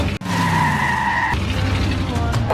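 A car skids in a film's car-accident scene: a loud, sustained tire screech holds steady for over a second, then gives way to a lower rumbling tone, all in the foreground with no talk.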